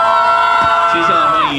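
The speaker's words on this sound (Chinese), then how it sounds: "掌声鼓励" Audience applause and cheering at a Taiwan fan meet-and-greet for the film Cold War 2, featuring Leung Ka-fai and Eddie Peng, a dense, steady wash of crowd noise with tonal sounds mixed in throughout.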